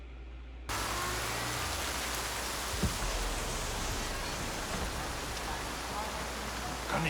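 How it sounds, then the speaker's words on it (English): Steady rain falls in a scene from the TV series Dark, a dense, even hiss that starts abruptly and continues unbroken. "it's raining in both time periods."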